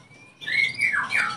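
Caged magpie-robins and kacer birds chirp and squawk at a bird farm, a short burst of bright calls that are fairly near but moderately quiet.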